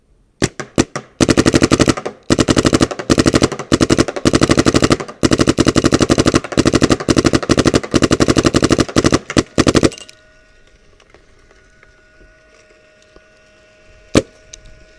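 Planet Eclipse Geo 2.1 paintball marker fired on semi-auto with a Ninja 68/4500 air tank, dense rapid sharp pops in quick strings for about ten seconds, then near silence with one isolated click.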